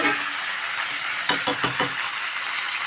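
Curry leaves and fresh coriander fry in a hot pan with a continuous loud sizzle, broken midway by a few quick scraping stirs of a spoon against the pan.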